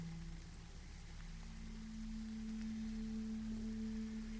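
Steady rain in the video game Perpetual Rains, a continuous soft hiss of falling water under a low droning tone, evenly loud throughout with no talking.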